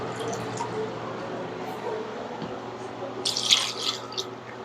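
Water pours and trickles from a 5-gallon bottle dispenser, a soft, continuous flow that brightens into louder splashing near the end.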